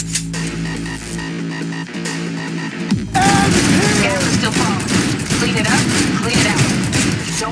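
Rapid sustained gunfire in the video game Cyberpunk 2077, bursts of automatic shots rattling densely after a quieter stretch, loud and close, with voices speaking amid the shooting.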